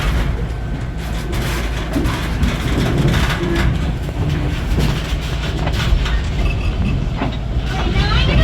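A Charlotte Valley Railroad train rolls along with a loud, rumbling roar, wheels clattering over the rails in irregular clacks, heard up close from an open-air car.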